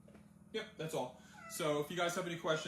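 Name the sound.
cat meowing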